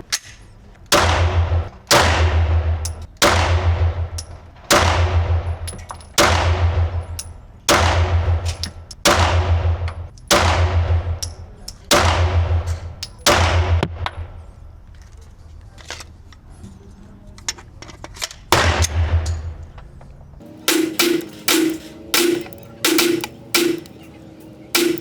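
Glock pistol firing Federal 9mm Luger 115-grain FMJ range ammunition, loud single shots in steady strings about one per second, each with a sharp crack and ringing decay, then a pause before a few lighter snaps.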